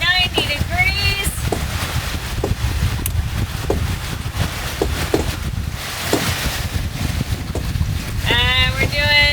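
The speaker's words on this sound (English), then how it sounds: "We've got 16 knots of wind coming in 90 degrees." Strong wind buffeting a sailboat under sail at about 16 knots on a beam reach, a constant loud rushing roar over water with harmonic whistling tones at the start and end, with voices speaking.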